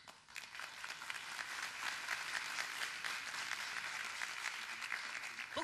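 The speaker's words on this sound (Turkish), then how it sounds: "Bu güzel alkışların devamını rica ediyoruz." Sustained applause from an audience at a launch night for a TRT city radio station in İzmir, a dense, steady wash of clapping that fills the room evenly from start to finish.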